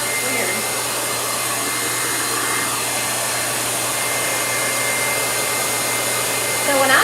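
Hair dryer blowing air with a steady, loud, close broadband whoosh and a constant motor hum that runs throughout without a break.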